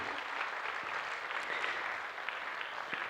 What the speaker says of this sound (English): I think we should give a warm, hearty clap to all of you.